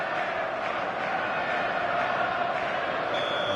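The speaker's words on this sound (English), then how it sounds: "this place is living up to its reputation as one of the noisiest corners of the footballing world" Steady stadium crowd roar from a football video game match between AC Milan and Arsenal, a dense continuous wash of massed voices at constant loudness.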